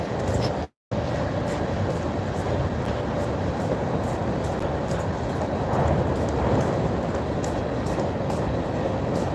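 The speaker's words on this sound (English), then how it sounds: "the second or third train I've seen cross this bridge" A train crosses the Harahan Trestle bridge, a loud continuous rumble and rattle of rail cars heard close by, with a brief dropout near the start.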